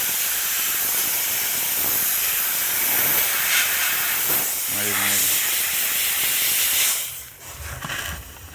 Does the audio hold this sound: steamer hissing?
yes